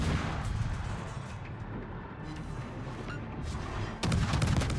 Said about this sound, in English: we still definitely want to be shooting our guns here